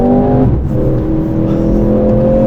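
A 2024 Mercedes C63S AMG in manual mode, pulling hard in second gear, its engine a loud continuous roar with a tonal shift early on, then a steady strained whine.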